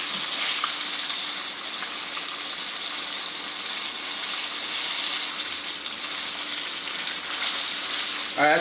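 Gluten-free breaded chicken parmesan fries in a pan with a steady, loud sizzle of hot oil that holds evenly throughout, near and close up, with a brief clatter at the end.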